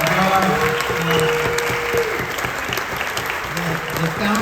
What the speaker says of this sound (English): let's just have a round of applause for Ted and Johnny and Gar